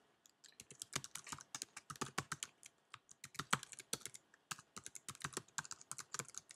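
Rapid, close typing on a computer keyboard while filling out an online dealership registration form, with dense irregular keystroke clicks continuing steadily throughout and no talking.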